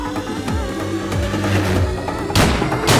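Sharp gunshot bursts crack out over a busy soundtrack of music and effects in a South Indian action movie, with a louder pair of blasts near the end.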